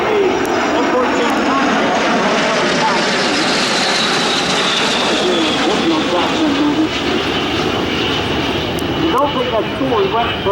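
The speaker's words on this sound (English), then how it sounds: "We're going to have a slow flight demonstration while the aircraft are landing." Aircraft engines roar loud and steady throughout at EAA AirVenture Oshkosh 2025 during a jet demo day with slow flight demonstration while planes land, with an announcer talking over the continuous engine noise.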